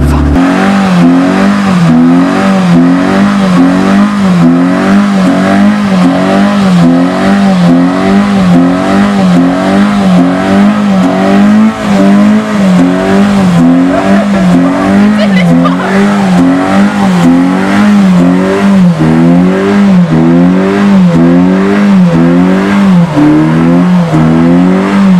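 At a car meet, a car's engine revs hard in a repeating rise-and-fall pattern while its tires squeal continuously as it drives in circles, loud and close throughout.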